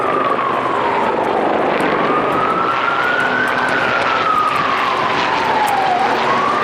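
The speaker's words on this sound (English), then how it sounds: "And there's a chopper." A loud, steady roar of a helicopter overhead with a whining tone that slowly rises and falls, constant and close throughout, at Domino Park in Williamsburg, Brooklyn.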